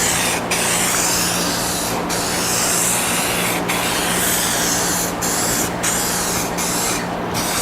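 Aerosol spray paint hissing steadily onto a salvaged Scion tC, continuous close spray with several brief pauses between passes, no talking.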